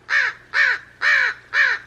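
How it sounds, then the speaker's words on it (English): A crow caws four times in a steady rhythm, each harsh call drawn out and close by, amid outdoor birds in hot, humid weather. "I can't translate crow language."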